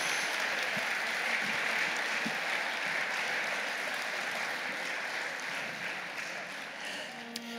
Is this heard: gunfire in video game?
no